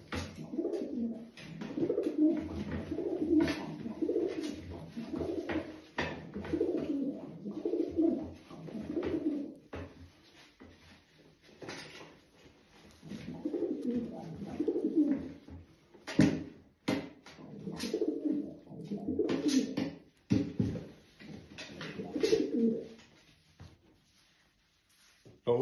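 Racing pigeons coo in a loft, repeated low throaty rolling calls coming in bursts, with rustling and light knocks between them, close by and moderately quiet.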